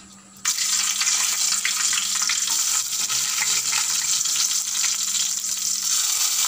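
Tempering spices hit hot oil for a ladies fingers and cashew fry, bursting into a loud, bright sizzle that starts suddenly and keeps crackling steadily up close.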